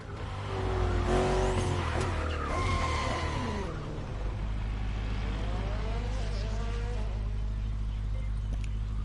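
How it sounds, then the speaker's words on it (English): A BMW M8 Performance in The Crew Motorfest racing game drives with a loud, steady engine drone and a long squeal of skidding tires near the start. The engine keeps running on after the squeal fades. "It's not a Mazda, it's a BMW M8 Performance."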